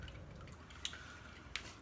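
Engine oil drips from a Ninja 650R motorcycle during an oil change, two faint, distinct drops falling into a pan about a second apart over quiet low hum.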